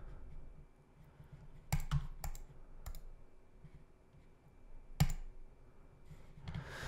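A computer mouse clicking several times at irregular intervals, crisp and close over a low steady room hum.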